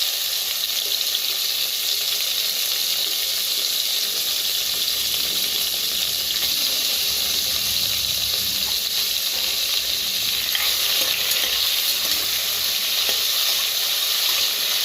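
Small onions and ripe tomatoes sizzle steadily in a hot pan while being stirred for Tirunelveli koottanchoru, a continuous bright frying hiss with no talk.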